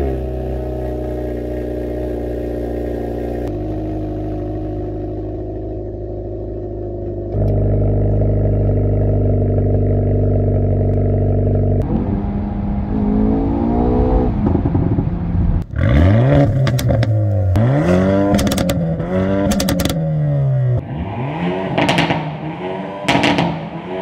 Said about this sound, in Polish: dźwięk wydechu w tym samochodzie to jest coś niesamowitego